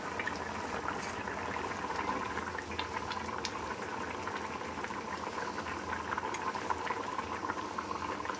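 Water bubbling at a steady rolling boil in a pan with prawns for a Bengali gathi kochu curry, a dense continuous burble heard close and alone throughout.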